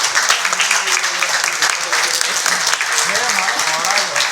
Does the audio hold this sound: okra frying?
no